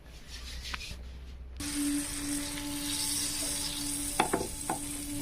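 Pav bread rolls toast in a hot pan for pav bhaji, with a soft, steady sizzle that rises after a quiet start and is broken by a few scraping strokes near the end.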